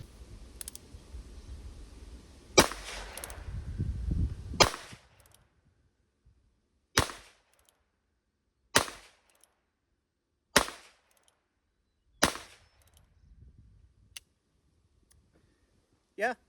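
A Heritage Rough Rider .22 LR single-action revolver fires a string of sharp, loud cracks spaced about two seconds apart, each dying quickly into quiet, with low rumbling background noise before the first shots.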